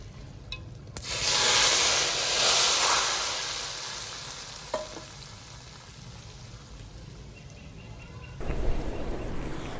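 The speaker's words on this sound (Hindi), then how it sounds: "अब हम इस पर धनिया डाल देंगे और प्याज का तड़का लगा लेंगे।" A sharp burst of sizzling as an onion tadka hits a pot of dal mash garnished with coriander, loud at first and then settling into a steady crackle, with a brief clatter near the end.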